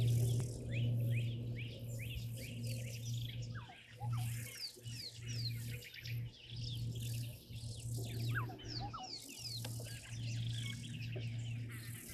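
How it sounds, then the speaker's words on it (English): A Burchell's starling chick calling at a waterhole, repeated thin chirping notes among steady insect buzz and other bird calls, moderately close and continuous. "That is a little Birchall starling chick, everyone."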